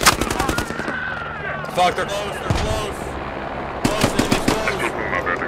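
Rapid bursts of automatic gunfire from the video game Squad, loud and close, with repeated volleys and sharp cracks, while players talk over the shooting.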